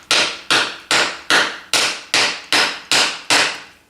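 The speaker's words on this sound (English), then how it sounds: "just try and hammer it in straight." Eight sharp, evenly spaced hammer blows on a wooden block, about two per second, loud and close with no voices, while installing headstock bearings during a lathe restoration.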